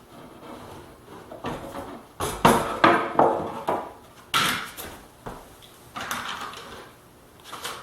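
Hammer blows nailing MDF pivot blocks into place on a planer stand, several firm, evenly spaced knocks in the middle of the clip with lighter taps and handling around them, close by.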